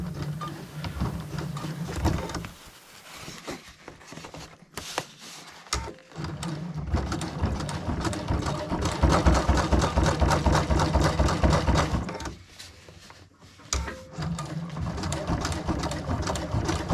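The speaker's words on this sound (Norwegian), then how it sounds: "Sy bort og sjekk at du får det samme sømmene ned." A domestic sewing machine stitching the seam of an anorak, running in long steady bursts of rapid needle chatter that stop briefly a few times and restart, close and clear with no speech.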